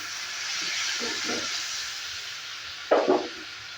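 A splash of water hitting hot garam masala in a pan for an aloo soyabean curry gives a steady, close sizzling hiss throughout, with a brief louder spit near the end.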